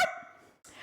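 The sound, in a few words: person imitating a dog barking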